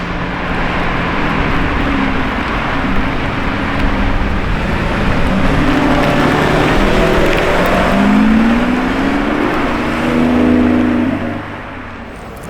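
A green Lamborghini Revuelto hybrid drives past on a road, a loud engine note that swells with rising gear sweeps and then fades away near the end.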